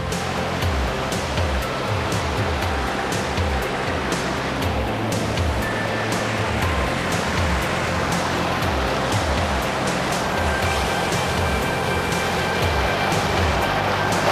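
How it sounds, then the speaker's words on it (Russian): A cascade of small waterfalls at Koban waterfall in Ossetia makes a steady, close rushing and splashing roar of water that fills the whole stretch without pause. "Здесь у нас такой каскад небольших маленьких водопадов."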